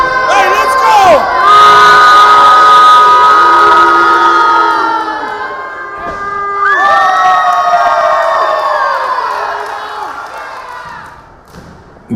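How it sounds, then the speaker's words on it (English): A high school crowd at a wrestling match roars and cheers loudly, with shrill shouts and whistling swells, a dip around the middle, then a second surge of cheering that fades toward the end. "I'll show you who these people are actually here to cheer for."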